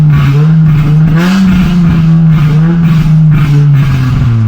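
A tuned Honda Jazz GK5 with its rev limiter deleted holds a loud, close, steady engine drone that wavers slightly in pitch, with faint crackles scattered over it.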